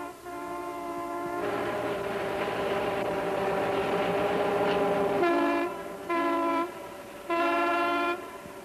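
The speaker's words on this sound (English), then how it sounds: "Its whistles and horns have echoed through this valley for 40 years." A Pacific Great Eastern Railway train sounds its horn in a valley: one long chord blast over the rumble of the moving train, then two shorter blasts, loud and fairly near.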